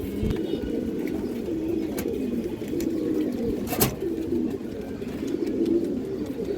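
A lone pigeon coos repeatedly in a steady run of soft, low, throaty calls, close by, with no voices.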